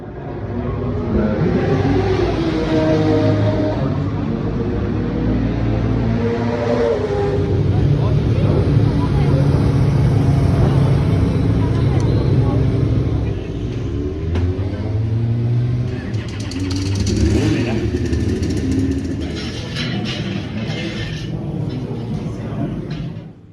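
Race cars at the 2022 Le Mans 24 Hours endurance race, part of the World Endurance Championship, produce a steady, loud engine roar and rumble that lasts throughout, with voices mixed into the din.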